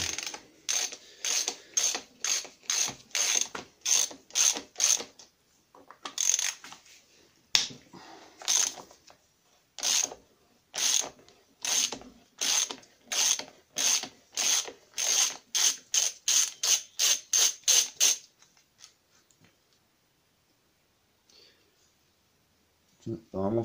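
A ratchet works loose the vacuum pump on a Mini R50 engine with quick bursts of sharp clicking strokes, close and loud, broken by short pauses and stopping near the end.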